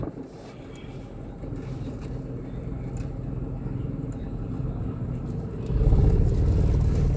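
A car drives smoothly after its brake is released, giving a steady low engine and road rumble that grows louder near the end, with no talking.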